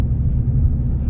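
Low steady rumble inside a 2022 RAM 3500 Limited pickup truck rolling along on a test drive, a continuous engine and road drone with no talking.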